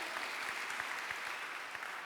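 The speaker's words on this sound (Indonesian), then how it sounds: "Tepuk tangan bagi Allah kita." A church congregation at an Indonesian worship service bursts into steady, dense applause, many hands clapping together evenly for the whole stretch, with no voices over it.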